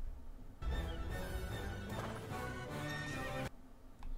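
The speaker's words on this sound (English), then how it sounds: "Yeah, that's just the horse." A horse neighs loudly in a video game, a long whinny with hoof clip-clops mixed in, filling most of the moment before cutting off abruptly.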